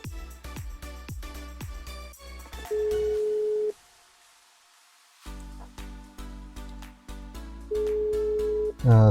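A phone call tone plays through an Android Auto car stereo: two steady one-second ringback beeps several seconds apart, with sharp clicks and a stretch of near silence between them.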